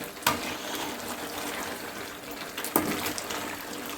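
A mixture cooks in a pan as its water boils off, making a continuous bubbling sizzle, while two sharp stirring scrapes come about two and a half seconds apart.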